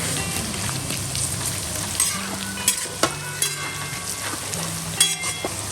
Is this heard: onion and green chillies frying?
yes